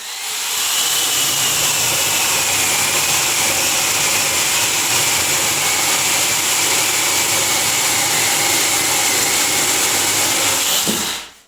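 An angle grinder fitted with a saw blade attachment cuts firewood in a loud, steady, continuous whine that runs unbroken for about ten seconds before cutting off, close by with no talk.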